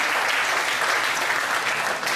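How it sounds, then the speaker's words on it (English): A large audience breaks into loud, dense, sustained applause, a steady wall of clapping with no talk over it. "Let's give her a big round of applause."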